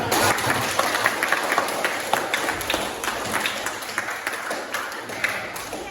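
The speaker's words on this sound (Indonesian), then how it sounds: "boleh tepuk tangan untuk kelompok 2." A crowd applauds steadily and fairly loud, a dense patter of many hands clapping continuously throughout.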